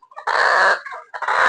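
A sick chicken, ill from the cold, makes harsh, raspy, gurgling breathing calls up close, two strained bursts separated by a short pause.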